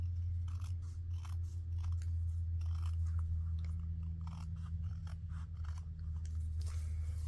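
Scissors trim the edge of quilting fabric for a zig-zag fold pocket, snipping in a quick series of crisp cuts close by over a steady low hum.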